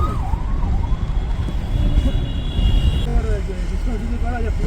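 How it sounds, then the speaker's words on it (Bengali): Ambulance and police car sirens wail continuously on a busy road in Kashmir near Pahalgam, their rising and falling tones loud over dense traffic noise. "চারিদিকে ছিল ব্যস্ততা শুধু অ্যাম্বুলেন্স আর পুলিশ গাড়ির আওয়াজ"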